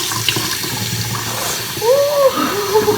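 Tap water pours steadily into a container holding egg, a close hissing rush whose tone rises as it fills toward the end, with no talking.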